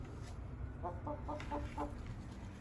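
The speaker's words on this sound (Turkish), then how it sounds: "Burada 14 tane tavuk olması lazım arkadaşlar" Several short clucks from a flock of about fourteen chickens in a steady cluster, heard over a low background hum, with a faint rustle; no talking.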